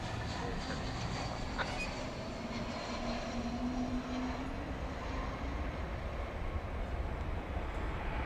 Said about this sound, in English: We've got American 2719 arriving at this time. It's an Airbus A321 from San Diego